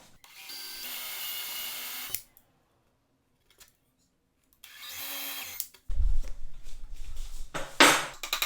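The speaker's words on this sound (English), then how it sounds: "And then I just flip the top over and drill a little Forstner bit hole." A Forstner bit drills a small hole into the flipped wooden top of a miter stand, two bursts of whirring power drill separated by silence, then clattering, knocking handling of the wood, close and loud.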